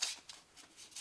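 Tarot cards being shuffled by hand, a few quick soft riffling bursts in close succession, faint and near with no talk over them.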